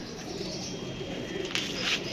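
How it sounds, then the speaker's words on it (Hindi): A female pigeon coos softly close by, a few low murmuring calls over background hiss and faint rustling, with no voices. "ये जी कबूतर है"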